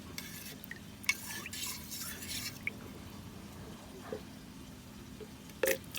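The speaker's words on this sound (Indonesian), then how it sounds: "ini saya aduk agar endapannya jadi satu" Thick rice-washing water with settled sediment is stirred in a container, making soft, close swishing and sloshing with occasional light clinks of the utensil against the side.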